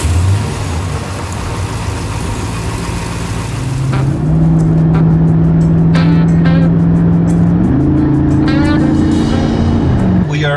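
A truck drives along the road, its engine a steady mid-pitched drone that climbs and shifts as it changes gear, with a faint voice speaking over the running motor.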